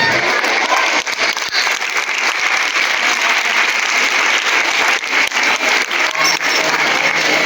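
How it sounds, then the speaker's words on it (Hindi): Parents in an audience applauding at a school annual day celebration, a dense sustained burst of clapping from a crowd lasting several seconds, loud and continuous. "Please parents, please clap the hands."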